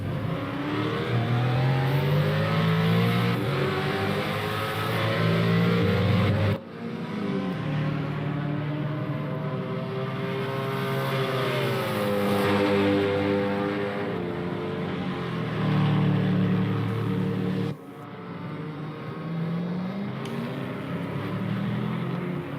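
Super GT race cars lapping Hockenheim, engines wailing and shifting pitch as they run close together, loud and continuous with sharp gear changes and surging revs throughout.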